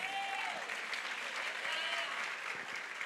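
Applause from a church women's conference audience, a dense, steady wash of many hands clapping at moderate distance, with a faint voice or tone audible briefly at the start.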